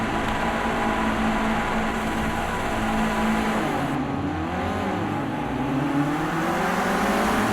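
Renault Clio Cup race cars at Donington Park pulling away together at a race start, a loud continuous pack of revving engines climbing through the gears.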